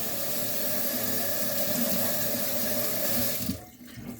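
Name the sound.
water running from kitchen faucet for rinsing dishes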